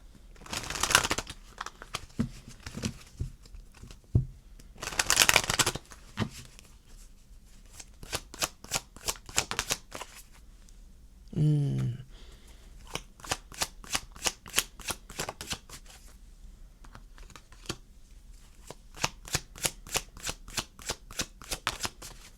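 Tarot cards being shuffled in quick riffling bursts, crisp rapid flutters repeating in runs with short pauses between, close and clear with no talk.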